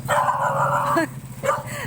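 A dog lets out a drawn-out, whiny bark or yelp up close, followed by a shorter second one after a brief pause.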